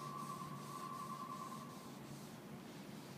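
A rag rubs steadily across a car bumper cover wet with water-based cleaner, giving a continuous soft, close wiping hiss over a faint steady background tone.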